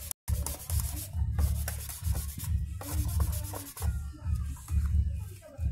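Body filler on a car panel is wet sanded by hand, producing rhythmic rubbing strokes in close succession, soft and scratchy with a wet, gritty texture, repeating about once a second.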